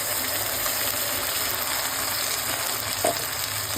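A ground paste of garlic, ginger and tomato fries with browned onions in a pan, giving a steady, dense sizzle that stays close and even, with a brief clink of stirring near the end.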